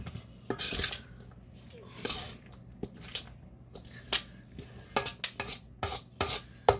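A spoon stirs pasta salad in a bowl, with green onions just added, giving close, irregular scrapes and clinks against the bowl in short bursts.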